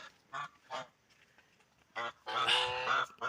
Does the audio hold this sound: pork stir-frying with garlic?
no